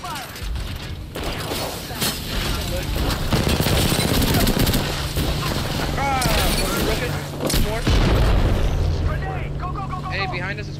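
Gunfire and explosions in Apex Legends, heavy bursts, booms and crackling shots piling up in a loud firefight, with voiced game callouts and chatter throughout.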